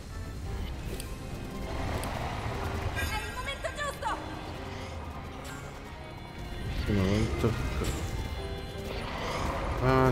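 Video-game horse sounds from Zelda: Breath of the Wild, with a couple of shrill whinnies and hoofbeats amid game noise, while a player talks over the top.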